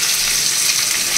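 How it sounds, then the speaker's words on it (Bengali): Three onions frying in hot oil for a gravy, giving a loud, steady, close-up sizzle that hisses without a break. "পেঁয়াজটা একটু হালকা ভাজা ভাজা হয়ে আসছে"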